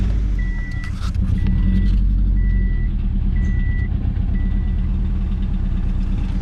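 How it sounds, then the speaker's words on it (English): Subaru WRX engine idling with a heavy shake from bad motor mounts, a loud, steady low rumble with a rhythmic pulsing throb, while a faint reversing-style beep repeats about once a second in the background. "I'm gonna try to diagnose this big engine shake that my car is getting."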